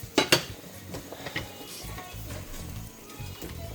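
Dishes, pots and cutlery clatter in a home kitchen while a New Year's turkey dinner is prepared, with a few sharp clinks early on and then softer scraping and rattling, close by and with no talk.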